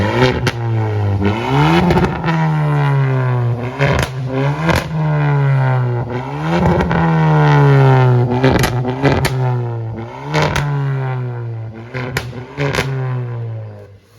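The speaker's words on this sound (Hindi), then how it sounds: "इसके अंदर पॉप्स एंड क्रैकल इसलिए ज़्यादा आ रहे हैं क्योंकि ये टर्बो वेरिएंट है" A Kia Seltos GT-Line turbo with a valvetronic exhaust, valve opened, revs up and down in repeated rising and falling sweeps, loud and close, with sharp pops and crackles on each lift-off.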